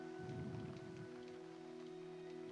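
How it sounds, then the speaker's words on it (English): Steady rain patters softly in the background over a low, constant hum, with no voices. "The rain."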